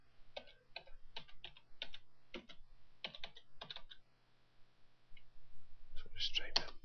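Typing on a computer keyboard: quick bursts of light clicking keystrokes in short rhythmic clusters, close and quiet, pausing briefly before a final flurry of taps.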